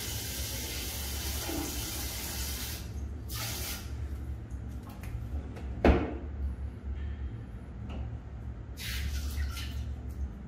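Water sprays steadily from the bidet sprayer of a premium toilet, a continuous close hiss of hard spray with a few knocks and clicks of handling along the way.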